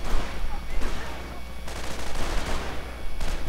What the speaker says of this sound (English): Suppressing fire from the Gewehr 43s.